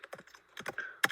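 Rapid keystrokes on a computer keyboard while coding in Xcode: a few quick clusters of crisp, close taps separated by short pauses, with no talking.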